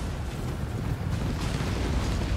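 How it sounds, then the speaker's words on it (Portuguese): Mortar fire and shell explosions from dwarf artillery in a Total War: Warhammer II battle against Fimirs, heard as a continuous loud rumbling barrage of booms with no clear gaps. "Olha lá a morteira"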